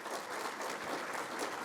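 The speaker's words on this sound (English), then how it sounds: "Give them a round of applause" Steady applause from banquet guests honouring Fresno State alumni award winners, heard fairly quietly as an even rustle of many clapping hands with no voices over it.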